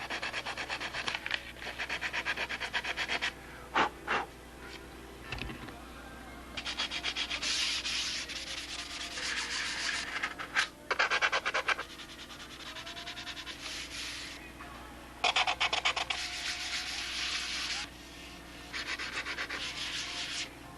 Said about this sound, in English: after doing all the sanding on the little parts here